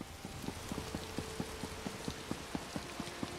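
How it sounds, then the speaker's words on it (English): Steady rain falls in the fantasy video game Elder Scrolls Online, a soft even hiss with light, regularly spaced drop-like ticks. The level stays quiet and constant throughout. "since it's raining here"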